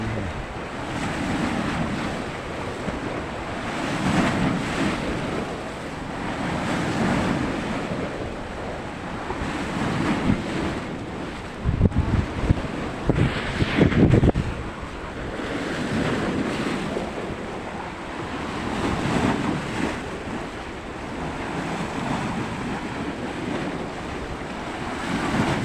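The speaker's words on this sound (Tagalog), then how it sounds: "Maalon na maalon." Rough sea surf rolls in at a fishport in Bulan, Sorsogon, with a continuous roar of waves rising and falling. Wind buffets the microphone throughout, and one louder gust comes midway.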